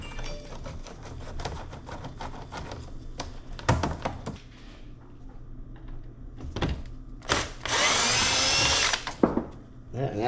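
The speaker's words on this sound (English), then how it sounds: "we're going to get a screwdriver for this." Power screwdriver working an airbox screw on a Dodge Dart engine bay, with short clicks and taps followed by a sustained whirring buzz close up, and a voice speaking at times.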